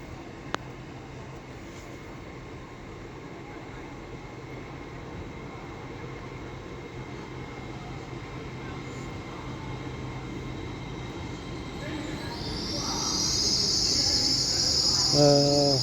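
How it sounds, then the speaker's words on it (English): An LNER class 800 train from London King's Cross to York pulls into Doncaster station, a low rumble building gradually over a long stretch and swelling louder near the end with a high squeal and horn-like tones. "The next train to be pulling in will be an LNER 800 from London King's Cross to York."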